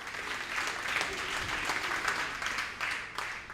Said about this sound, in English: So round of applause to our partners